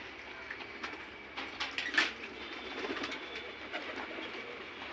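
Pigeons coo softly at a rooftop loft in Jammu's Old City, a few low murmuring calls with faint wing flutters and light background noise, no voices.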